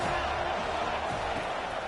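A large football stadium crowd roars in a broad, continuous wash of noise on a third down, distant and steady.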